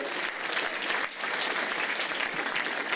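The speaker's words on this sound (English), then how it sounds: "I acknowledge him with a round of applause, please, also" A round of applause from the audience at a Limerick senior football final event, dense and continuous clapping filling the short stretch, with a brief dip in the middle.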